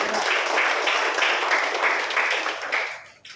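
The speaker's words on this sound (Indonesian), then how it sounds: "Tepuk tangan bagi Tuhan." A church congregation applauds during a Sunday service, a steady wash of many hands clapping for about three seconds before it tails off.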